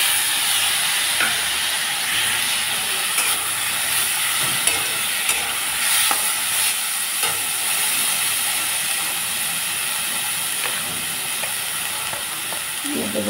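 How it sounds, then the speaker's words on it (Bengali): Boiled cabbage, cauliflower and small tomatoes added to a frying pan of fried potatoes and onions set up a steady, loud hiss and sizzle that runs unbroken throughout, with faint clatters on top and no talking. "এখন আমি দিয়ে দেব বাঁধাকপি আর ফুলকপি সেদ্ধ করা আর ছোট্ট টমেটো।"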